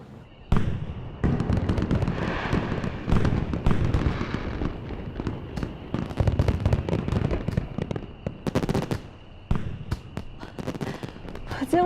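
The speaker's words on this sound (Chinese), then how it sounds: "我见过这么多烟花，" Fireworks burst in rapid, dense crackling volleys during a collective burning of new blue-coloured fireworks, loud and continuous with short lulls, while faint voices mingle underneath.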